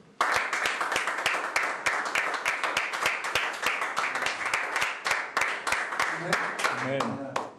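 A church congregation applauds in steady rhythmic unison, claps evenly spaced and fairly loud, with a voice rising faintly beneath near the end.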